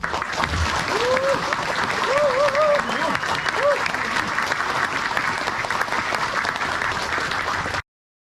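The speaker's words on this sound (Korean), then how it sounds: "응원과 경의 박수를 보내주시기 바랍니다" An audience at a military ceremony claps in sustained, even applause, loud and continuous with a few voices calling out over it, ending abruptly.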